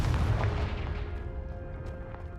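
A Confringo spell explosion in Hogwarts Legacy hits hard at the start with a heavy low boom, then fades into a rumbling decay with faint tonal game ambience.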